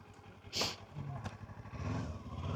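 A Kawasaki KLE500 SE motorcycle shifting up without the clutch, its engine droning low and fairly faint, with a brief sharp rise as a gear change goes through.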